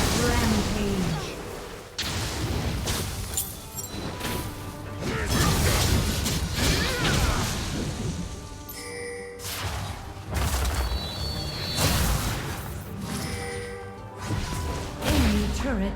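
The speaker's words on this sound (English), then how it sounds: "Enemy turret destroyed." An enemy turret gets destroyed during a Wild Rift mobile game match, with loud crashes, thuds and whooshes over busy game effects and music, and game announcer voice lines come and go.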